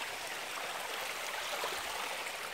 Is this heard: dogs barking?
no